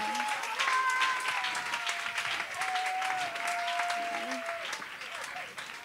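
A church congregation claps and cheers in sustained applause to acclaim the Lord, a dense, steady wash of hands with a few voices and whoops rising over it.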